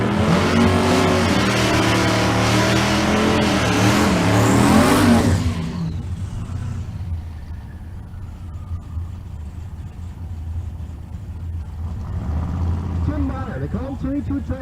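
A Pontiac drag race car in the left lane at a Kearney, Nebraska race, its engine screaming loud and close through rising gears before cutting off abruptly, leaving a low rumble and crowd murmur with an announcer talking.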